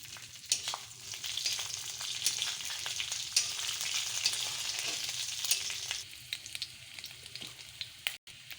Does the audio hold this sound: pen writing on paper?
no